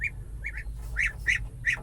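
Adult ducks give a few short, nasal quacks and honks close by, sounding in brief bursts over a low background hum.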